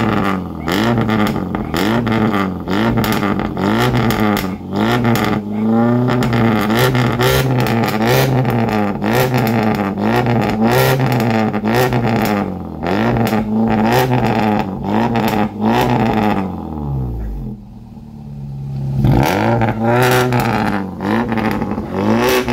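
Car engine accelerating hard on a test drive, revving loudly through repeated rising sweeps and gear changes, then easing off into a brief lull before picking up again.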